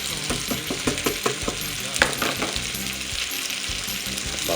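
A spoon stirs chicken and tomatoes in a hot frying pan, steady sizzling under a rhythm of scraping strokes and occasional clinks against the pan, close and fairly loud with no talking.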